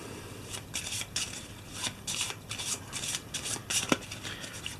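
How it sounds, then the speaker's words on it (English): Board game cards are given a quick shuffle, a run of close, crisp riffling and slapping bursts in an uneven rhythm without talk. "Quick shuffle."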